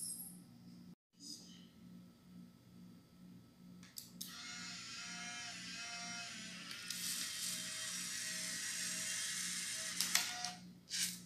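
A lilac Fujifilm Instax Mini 11 instant camera whirs as it ejects a freshly taken print, a steady motor buzz lasting several seconds after a shutter click, close and fairly quiet over a low background hum.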